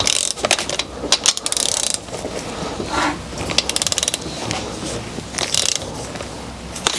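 A hand ratchet works on the connecting rod cap bolts of a 2JZ engine during a rebuild, rapid bursts of metallic clicking repeated in short runs, close and loud, with no talking.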